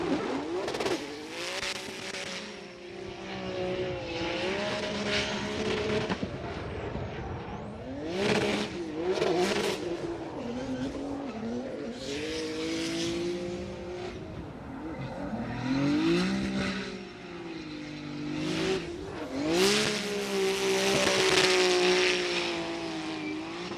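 Nissan Nismo Z drift car at a Formula Drift pro competition in Atlanta, engine revving hard and bouncing off the limiter in repeated surges, tires squealing and skidding throughout, loud and close with crowd noise behind.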